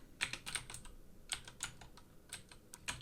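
A database username typed on a computer keyboard while installing Drupal on a Linux server: quiet clusters of quick key clicks with short gaps, close and without talk.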